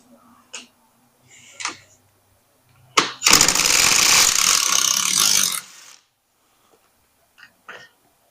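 Power tool driving a nut home on a mechanical build, a loud close whirring rattle lasting about three seconds, with a few faint clicks and knocks before and after.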